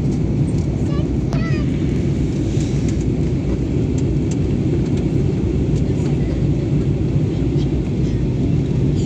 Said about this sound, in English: The aeroplane is soon landing on the ground.